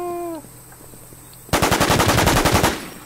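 Automatic gunfire rings out during PvP combat in the video game The War Z on the Smallville map. A loud, close burst of about a dozen rapid shots follows a quiet stretch with faint tones.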